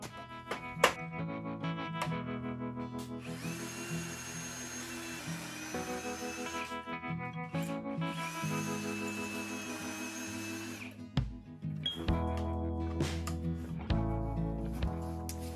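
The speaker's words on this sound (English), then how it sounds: "This is pre-drilling my holes so that I can put them in at an angle easier." Power drill pre-drilling angled holes in wood, whirring in several sustained bursts, rising and holding, with music playing underneath and a few knocks between runs.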